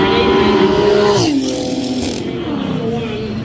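A BMW race car at a roll racing event in Adelaide roars loudly as it passes close by, its engine pitch sliding down as it goes, then fading into a steady drone.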